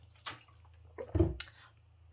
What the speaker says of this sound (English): Sorry, need to take a sip of water.